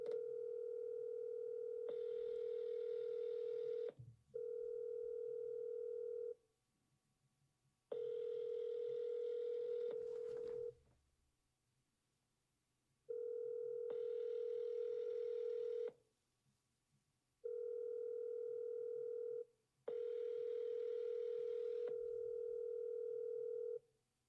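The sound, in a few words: telephone dial tone while making phone calls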